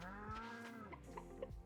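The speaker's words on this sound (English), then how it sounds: "Yes, there's my cows." Cows in the Pokopia farm game low out in a couple of soft, drawn-out moos, followed by a few faint clucks and small game sounds, quiet and close with no talking.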